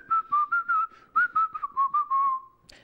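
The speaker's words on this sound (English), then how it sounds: "Because not everybody can whistle, can they?" A woman whistles a tune solo, a clear pitched melody in a quick series of short detached notes ending on a longer held tone, close and alone with a small bump at the end.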